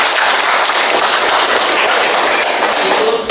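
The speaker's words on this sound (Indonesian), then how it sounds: "Oke, kita berikan tepuk tangan." A classroom crowd claps for a student group after a presentation, a dense, loud, continuous wash of applause with no break and no speech.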